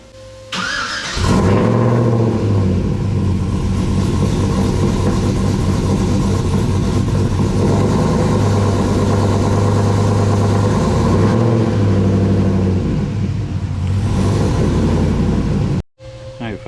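A car fitted with an M122 supercharger blower starts and rolls off, its engine holding a loud, steady mid-pitched drone with a supercharger whine for about fifteen seconds before cutting off abruptly.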